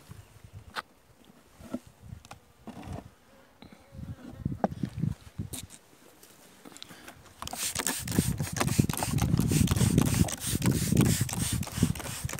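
Honeybees buzz around a hive of a weak colony being tended, a low hum that swells louder and denser in the second half, with scattered rubbing and knocking of wooden hive parts.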